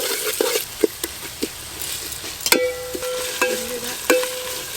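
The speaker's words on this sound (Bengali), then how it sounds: "আদা রসুন পেঁয়াজ ভালো করে ভেজে নিয়েছি" Chopped onions with ginger-garlic paste fry in hot oil in a home kitchen while a spoon stirs them, giving a steady sizzle broken by several sharp scraping and clanking stirs against the pan, close and fairly loud.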